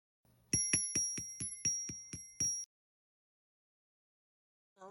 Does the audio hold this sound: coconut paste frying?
no